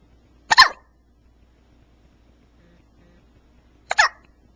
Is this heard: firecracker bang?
no